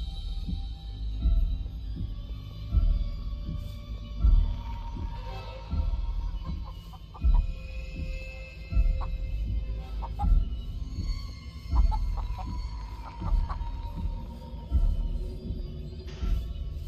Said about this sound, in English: I just gotta get past this damn chicken.